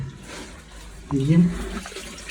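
Clean water gushing through a pipe flushed down a borehole being drilled inside a dug well, a steady watery rush that swells midway, with a voice talking over it.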